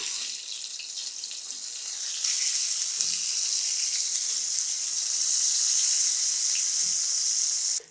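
Eggplant pieces fry in hot oil with a bright, steady sizzling hiss that grows louder midway and cuts off at the end; no talking.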